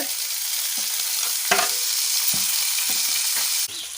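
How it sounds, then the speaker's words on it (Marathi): Onion frying in a pan for a Marathi home recipe, a steady loud sizzle with a few brief scrapes and clinks of stirring throughout. "कांदा असा छान असा लाल चांगला परतू द्यायचा"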